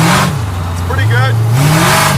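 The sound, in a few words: engine of a 1940 Ford hot rod while cruising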